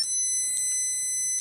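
A thin, shrill electronic tone from a tiny speaker buzzes steadily, with faint clicks underneath, from a birthday greeting card sound chip.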